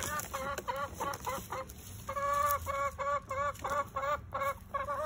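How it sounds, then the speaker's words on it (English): Backyard chickens cluck noisily and repeatedly, one hen especially loud and close, in rapid rhythmic bursts of squawking calls with short gaps, over a low outdoor background. "She's my noisy chicken. She makes more noise than anybody."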